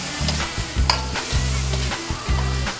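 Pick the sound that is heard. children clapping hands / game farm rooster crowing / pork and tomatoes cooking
pork and tomatoes cooking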